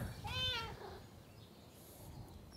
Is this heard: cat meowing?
yes